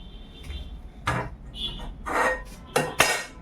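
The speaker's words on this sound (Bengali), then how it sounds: "ডালের ঢাকনাটা সরিয়ে দিতে হবে" Metal clanks and scrapes as the lid comes off a pot of cooking dal, giving a few sharp knocks and rattles in quick succession. The sounds are close by, with no talking.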